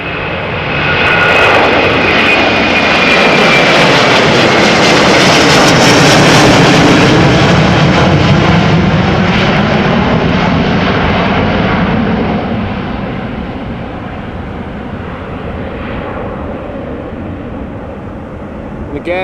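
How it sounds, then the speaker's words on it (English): A Delta Airbus A330-300 jet airliner bound for Atlanta passes at Amsterdam Schiphol, a loud, swelling engine roar with a rising whine that peaks mid-pass, then slowly fades as the jet moves away. "Delta A330-300 going to Atlanta"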